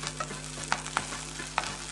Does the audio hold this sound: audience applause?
no